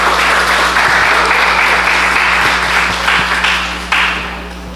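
Loud, sustained applause from an audience welcoming guests onto the stage of a church debate on biblical counseling, steady clapping for the full length with a low hum underneath and a brief burst near the end before it tapers.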